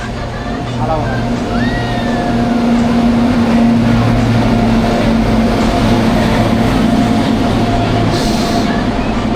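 A superfast train bound for Pune rolls along with a continuous loud rumble and a steady low hum, heard from on board, with voices murmuring in the background.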